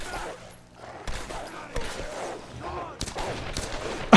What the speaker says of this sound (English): It says distant gunfire, but that sounds pretty close.